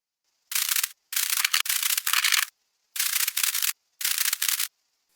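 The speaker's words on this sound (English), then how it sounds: "interesting noises in the serum that sound like crumpled paper or similar organic materials" Crisp crinkling, crumpling bursts in short separate clusters with silent gaps between, synthetic and dry, a crumpled-paper noise made in the Serum synthesizer and modulated with white noise for a drum and bass snare.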